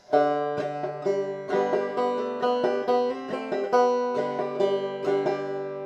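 Banjo frailing with hammer-ons on the first string, a steady stream of bright plucked notes with hammered-on accents rolling along in a lively rhythm, playing part of the tune I'll Fly Away, solo and fairly quiet.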